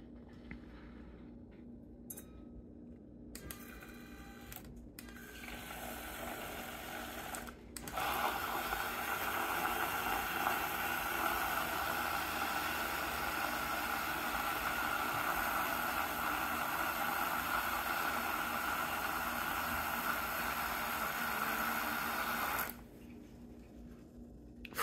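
An electric whisk beats wine, first in short bursts, then steadily on its third speed for about fifteen seconds as a loud, even whirring buzz that stops abruptly.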